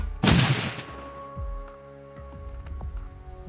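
Grenade blast in Shadowrun Dragonfall: one sharp, loud explosion early on that decays into a lingering ring, followed by several softer low thuds over sustained tones.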